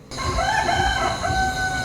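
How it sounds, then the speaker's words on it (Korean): A rooster crows loudly and close in a long, sustained cry during a night stay in Cambodia around 3 a.m., filling almost the whole moment with little else around it. "지금부터 쭉 개소리 닭소리가 계속됩니다"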